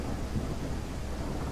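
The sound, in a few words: rain in the Endless Suburbia driving video game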